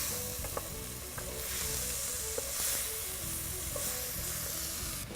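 A dish sizzles quietly in a pan after molasses is added, with soft intermittent scraping of a stirring utensil and a few light clicks, fairly faint and steady.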